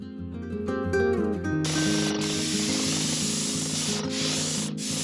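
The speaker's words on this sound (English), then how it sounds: "airless sprayer that I got from a thrift shop for 50 bucks" An airless paint sprayer bought secondhand hisses in a loud, steady spray, cutting in after a brief mechanical whirr and running continuously with a few short breaks while painting a carport tiny house.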